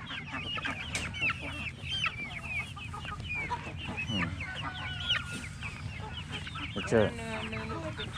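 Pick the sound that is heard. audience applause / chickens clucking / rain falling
chickens clucking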